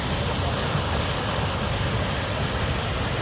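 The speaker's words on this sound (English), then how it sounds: "Now, what can I tell you about this waterfall?" Duden Waterfall near Lara in Antalya, Turkey, pours as a loud, constant broadband rush of falling water that fills the entire stretch.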